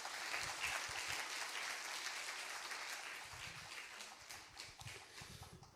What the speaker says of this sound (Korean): 우리 하나님께 감사 박수 올려드리겠습니다.